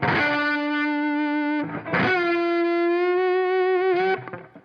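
A distorted electric guitar rings out in two sustained, buzzing chord strums, each preceded by a brief scratchy rake across the strings, loud and close.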